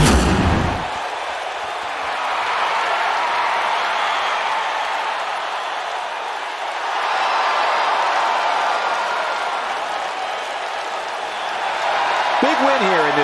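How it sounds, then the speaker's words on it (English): A Detroit crowd at a WWE wrestling arena roars in a sustained, dense wash of cheering that swells and dips over several seconds, loud and continuous with a commentator's voice briefly under it. "Listen to this Detroit crowd."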